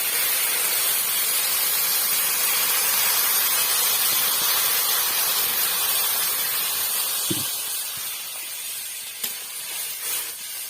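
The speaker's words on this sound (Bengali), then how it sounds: "এবার জল দিয়ে দেবো। পরিমাণ মতো জল দেবো।" Water poured into a hot pan of cauliflower, potato and bori curry sets off a loud, broad hiss and sizzle that holds steady, then thins out, with a soft knock and faint clinks near the end.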